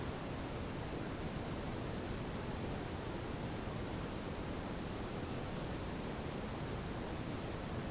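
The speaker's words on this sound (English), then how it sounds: "So it will play some bird sounds and something that you usually hear in a forest" Forest nature soundscape played through a Google Home smart speaker, a steady broadband wash of hiss at an even level, with no distinct bird calls standing out.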